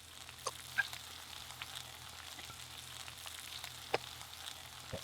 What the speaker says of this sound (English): Maybe just have to sweat the onions in the hot oil.